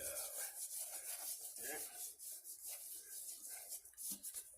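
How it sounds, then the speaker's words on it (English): Hands rub seasoning into fish before it is smoked, making a steady, soft scrubbing and rubbing sound close by. It is faint and continuous, and there is no clear speech. "Exactly, you want to rub it all in there really good."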